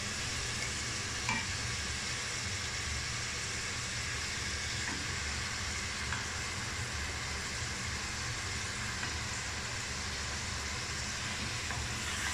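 Marinated mutton chops fry in masala with a constant, even sizzle and hiss, faint stirring scrapes now and then, heard close and steady with no talking.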